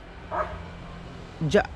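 A small dog gives a couple of short, sharp barks close by, separated by a brief pause.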